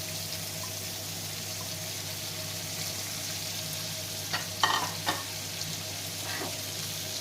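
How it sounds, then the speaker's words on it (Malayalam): Sliced onions frying in coconut oil for a fish roast gravy, a steady close hiss of sizzling oil with a few brief scraping stirs near the end, no voices. "ഫിഷ് റോസ്റ്റിൻ്റെ ഗ്രേവിക്ക് ആവശ്യമുള്ള സവാള നമുക്ക് ആഡ് ചെയ്ത് കൊടുക്കാം"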